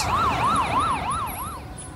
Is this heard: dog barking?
no